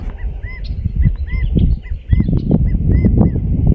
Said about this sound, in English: There's a bunch of birds.